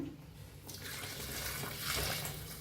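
Hot water is poured into chicken masala in a pan, a close, steady splashing pour that starts after a brief quiet moment and runs continuously, with no talking.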